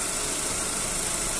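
Steady engine running on a 2009 Chevrolet Astra that has a fault noise, a continuous broadband mechanical whir and hum close by with no distinct knock pattern, no talking.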